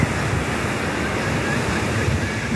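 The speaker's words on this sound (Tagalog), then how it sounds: "Hindi pare-parehas ang wave ng alon." Ocean waves break on a shore in a steady, loud wash of surf, with wind gusting across the microphone throughout and no voices.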